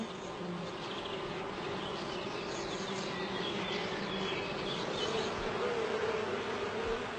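Honey bees buzz steadily around their colony, a dense continuous drone of many insects at close range, unbroken and without voices throughout.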